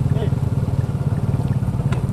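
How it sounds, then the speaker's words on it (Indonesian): Motorcycles riding close behind, a steady pulsing engine drone with a throbbing low rumble throughout, under a voice. "Empat motor di belakang."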